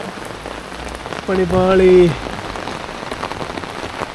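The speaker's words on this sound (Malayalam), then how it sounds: "ഈ മഴ കാരണം ഒന്നും ചെയ്യാൻ പറ്റുന്നില്ല" Heavy rain pours steadily in Hallstatt, Austria, a dense hiss of drops on surfaces throughout, with a brief tonal sound rising above it for a moment.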